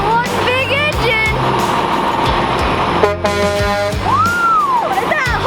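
A big dump truck's horn sounds loudly in a sustained blast midway, over the rumble of an idling engine, with voices around it.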